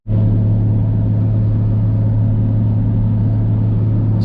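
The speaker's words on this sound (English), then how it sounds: "It's just such a nice feeling driving the R33 around." A built Nissan Skyline R33 with an RB25DET turbo engine cruises through city streets, a steady loud low engine rumble and drone filling the cabin throughout, with no talking.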